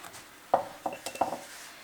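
A glass jar of home-canned salsa verde set down into a canner, giving three or four light clinks and knocks of glass against metal, close and fairly quiet, with no talking.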